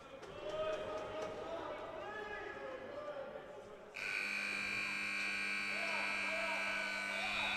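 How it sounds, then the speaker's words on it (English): A buzzer sounds at a box lacrosse game, a loud steady electronic tone that starts abruptly and holds over arena crowd noise and commentary. "Oh, buzzer sounds."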